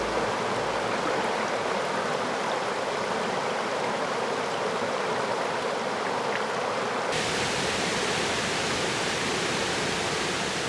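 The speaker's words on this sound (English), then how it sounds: "the water makes its way through narrow valleys and gorges" Water rushes steadily through narrow valleys and gorges, a dense, continuous roar of flowing stream with no voices, holding at an even level throughout.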